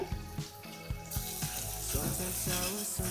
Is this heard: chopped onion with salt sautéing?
yes